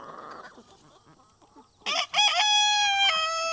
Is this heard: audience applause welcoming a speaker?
no